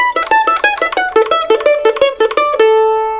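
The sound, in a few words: string instrument double bounce lick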